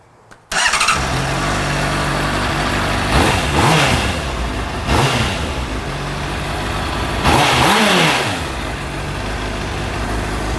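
A Honda CBR 600RR motorcycle engine fires up after a brief silence and settles into a loud, steady idle with a few throttle blips that swell and fall, close by.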